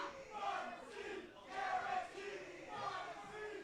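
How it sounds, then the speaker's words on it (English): A wrestling crowd at an indoor pro wrestling show chants in a rhythmic, repeated cadence, muffled and distant, rising and falling in waves. "You hear the crowd chanting"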